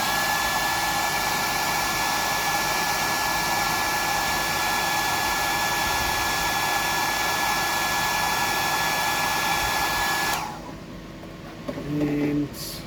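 A hair dryer blows steadily to dry fresh paint, a loud, close, constant whoosh with a fixed whine that cuts off abruptly near the end, followed by faint handling and a brief voice.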